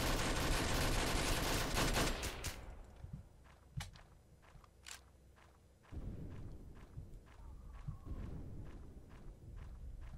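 A VSS gun fires in a Roblox game, a dense burst of rapid shots in the first seconds, then scattered single cracks over footsteps and background game noise.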